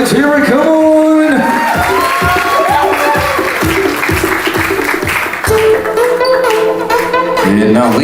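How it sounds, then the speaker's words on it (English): Wedding reception guests clapping and cheering with whoops, a dense burst of applause under loud music and voices filling the room. "a huge round of applause for that wonderful video. Let's hear it, come on!"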